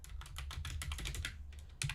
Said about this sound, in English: as I slowly but surely type this out